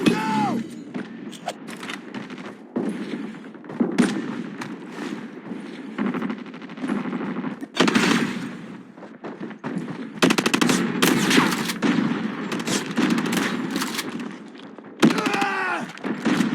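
Shotgun blasts in a first-person shooter game, repeated loud booming shots at irregular intervals mixed with rapid gunfire, thuds and game effects over constant background action.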